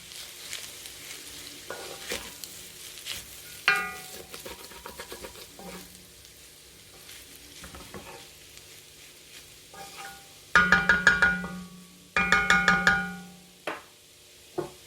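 Mauritian fried noodles (min frire) tossed with spring onions in a hot pan, scraping and clattering stir strokes over a steady sizzle, with louder bursts of rapid metallic tossing near the end.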